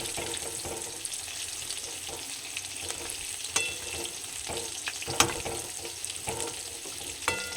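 Pakoras frying in a pan of hot oil, with steady crackling and sizzling and occasional sharper pops and clinks throughout, close by with no talking.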